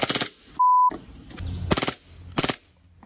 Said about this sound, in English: I missed the first couple shots.